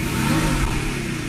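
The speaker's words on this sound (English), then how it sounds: "See, once it's warmed up a little bit, it accelerates nicer." Mercedes V8 engine, freshly fitted with a new throttle body, revving up close by in a short, loud, steady burst with no talk over it.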